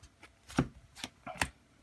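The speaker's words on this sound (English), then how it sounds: "Make sure we're shuffled good." Playing cards being shuffled for a trading card game test hand, heard as a few short, crisp riffling bursts close by with brief pauses between them.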